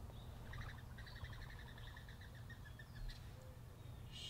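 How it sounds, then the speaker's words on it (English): Several small birds chirp and tweet in quick repeated trills in a back yard in the morning, over a low, steady background hum, fairly faint and distant. "There's a lot of bird noises going on."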